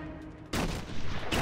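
Sniper gunfire in Batman Arkham Asylum: a sudden loud burst of shots that breaks over a quieter game background, followed by a second blast just before the end.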